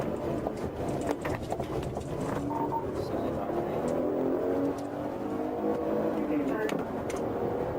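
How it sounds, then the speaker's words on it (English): Engine noise roars steadily with a car fleeing police racing by at speed, while excited voices talk over it. "That car is like, fuck, he's zooming."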